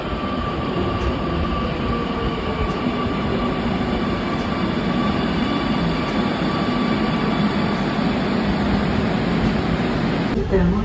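A loud, steady metro train rumble fills the scene, with a constant rushing roar and faint squeals, as if pulling into a station nearby.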